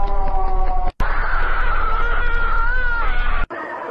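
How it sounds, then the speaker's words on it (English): Loud, sustained screams from an uncanny Mr. Incredible meme sequence, two long shrill bursts separated by a brief cut, close and harsh with no talk over them. "What is with the screams?"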